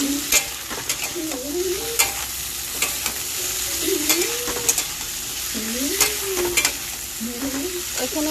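Vegetables frying in hot oil with green chillies, a steady close sizzle with metal utensil clinks from stirring, and a voice talking intermittently over it.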